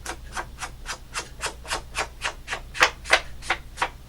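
Close, steady rubbing of an ink dauber over paper, about a dozen evenly spaced scrubbing strokes at a brisk rhythm, a couple slightly louder, with no talking.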